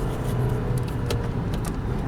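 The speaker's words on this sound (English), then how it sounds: "Whoops, I guess the car's got into auto stick mode. I was winding it out." A car engine in auto stick mode winds out at high revs, a steady, close, continuous drone with a few brief higher-pitched squeaks on top.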